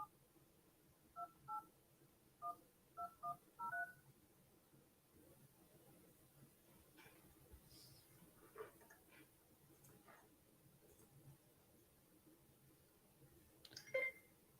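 Series of short, clear touch-tone telephone dialing beeps in quick bursts near the start of a call, followed by quiet line hiss and faint clicks.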